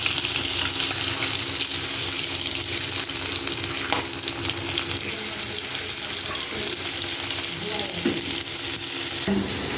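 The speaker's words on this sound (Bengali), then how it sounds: "বাকি মাছগুলোকে আমি কড়াইতে দিয়ে ভেজে নিচ্ছি" Fish frying in oil in a wok, a steady dense sizzle throughout, close and loud, with brief clinks and a faint hint of running water; no one speaks.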